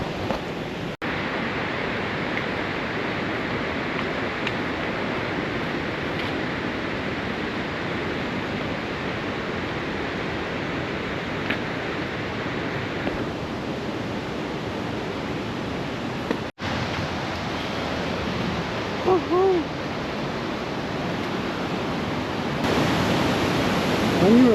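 A waterfall rushes with a dense, continuous roar of falling water, loud and close throughout, with a few faint chirps and brief bumps near the end.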